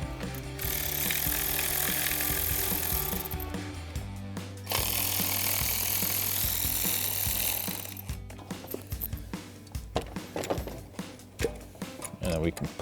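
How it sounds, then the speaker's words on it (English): A 10mm swivel socket works the ignition coil bolts on a 2008-2023 V8 HEMI Dodge Challenger, heard as two long, loud stretches of buzzing tool noise followed by scattered short clicks and knocks. "I'm using a 10mm swivel socket to get into some of these tight areas."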